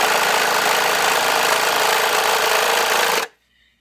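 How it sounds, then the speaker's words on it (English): A Viair 400P portable air compressor, plugged into a car lighter socket and hooked to a tire valve stem, runs loudly and steadily up close with a dense rattling drone, then cuts off abruptly near the end. "hook this little compressor up, plug it in your lighter, hook it onto your valve stem,"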